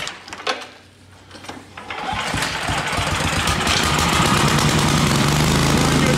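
A Troy-Bilt Vortex Tracker 2890 snowblower engine is pulled over with a few rough cranks, then catches and roars into a loud, steady close-up run.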